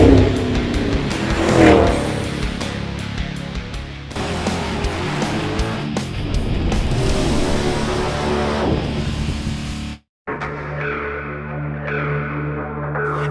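A supercharged, tuned 2007 Dodge Magnum RT with a 5.7 Hemi V8 and stock exhaust revs and accelerates loudly, engine pitch climbing and dropping through gears, cutting briefly to silence before a steadier idle-like rumble.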